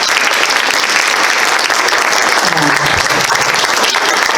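Sustained audience applause fills a hall at a historical society quilt program, dense and steady clapping from a crowd that carries at even strength throughout with no break.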